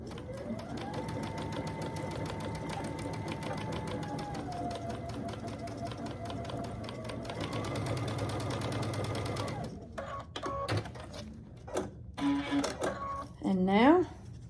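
A sewing machine stitching quilt strips, a steady close motor whir with a rapid needle rhythm that runs for about ten seconds, then stops into clicks and handling noises, with someone talking over it.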